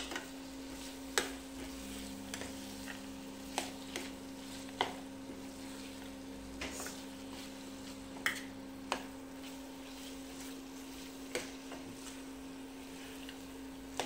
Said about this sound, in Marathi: आता हे काळे वाटाणे या मसाल्यामध्ये बरोबर चांगले मिसळून घेऊ. त्या मसाल्याबरोबर थोडेसे भाजून घ्यायचे आहेत.